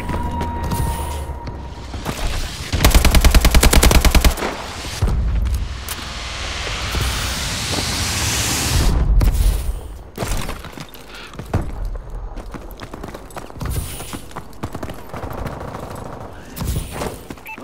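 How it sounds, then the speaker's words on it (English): Friendly missile strikes and heavy weapons fire in a multiplayer shooter game, loud and dense: rapid automatic gunfire bursts, booming blasts and crashing debris layered over constant battle noise with sharp impacts throughout. "Friendly missile strikes inbound."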